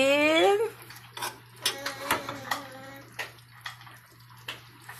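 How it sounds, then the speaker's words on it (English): Dry pasta goes into a pot of water for a steak and beef pasta dinner. A short rising tonal sound comes first, then a series of light clattering taps and soft splashes nearby. "I'm going to add the pasta in"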